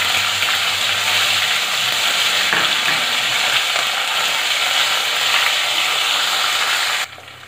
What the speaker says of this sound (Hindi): अब हम इसमें जो हमारा पेस्ट था अदरक लहसुन का, हम उसे डाल देंगे और अच्छे से फ्राई करेंगे।